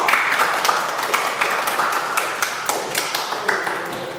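A class of students clapping their hands together in a classroom, a steady dense patter of many claps that carries on throughout at moderate loudness.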